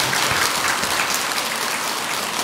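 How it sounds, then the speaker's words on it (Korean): An audience at a Buddhist dharma service at a temple breaks into dense, loud, sustained applause that stays even throughout and is not interrupted by speech. "여기에 동의하신다면 박수 한번 보내주시죠."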